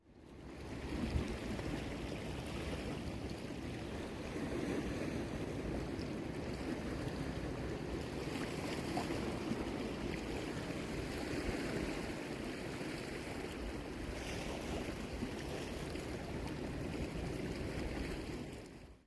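Ocean water washes along the rocky shore of Pico Island in the Azores at low tide, a steady, dense rush of surf and trickling water that stays even and unbroken throughout.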